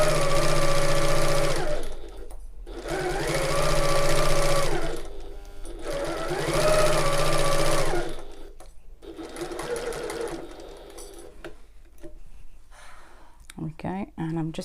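A sewing machine stitches a tote bag seam in loud, close bursts of fast whirring motor hum, several runs separated by short pauses for pivoting and back stitching, with a person talking faintly at times and handling noises at the end.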